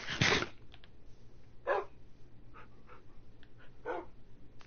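Minecraft puppies bark in short, separate yips, one loud bark up close followed by softer scattered barks and whimpers.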